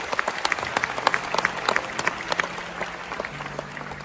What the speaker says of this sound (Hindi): अब तक की सबसे जोरदार ताली होगा इस कंपनी के लिए